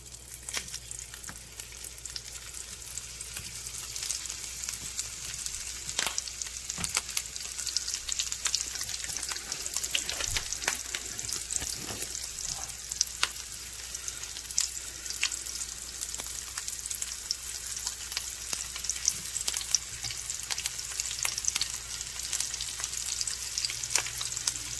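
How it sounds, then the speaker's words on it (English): Sausage browning in a pan over turned-down heat, giving a steady close sizzle with scattered pops and crackles throughout, alone with no talk. "we're gonna brown up our sausage"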